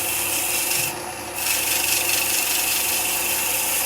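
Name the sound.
hand sanding a wooden pendant with abrasive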